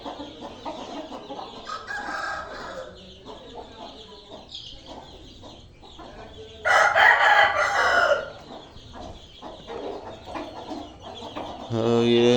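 Chickens and chicks in a backyard bird enclosure, steady clucking and peeping with a loud rooster crow bursting in midway and another call starting near the end, close by.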